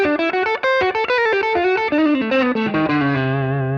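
Electric guitar through an overdrive distortion pedal plays a quick run of notes, then settles on a sustained low note, loud and alone.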